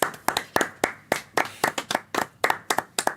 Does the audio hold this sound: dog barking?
no